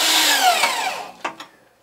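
A 90-degree power drill driving a screw into a wall whines up loudly close by and winds down, followed by a couple of sharp knocks and scrapes.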